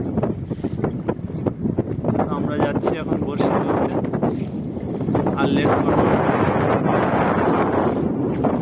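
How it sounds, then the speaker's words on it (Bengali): Strong wind rushes steadily over a river around a fishing boat, a constant blustery roar beneath someone talking close to the microphone. "আজ প্রচুর পরিমাণে হাওয়া হচ্ছে, সঙ্গে ঢেউ আছে।"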